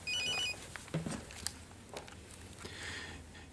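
A telephone rings in an indoor scene from a sitcom, a short electronic trill at the start with some faint shuffling and small knocks afterwards.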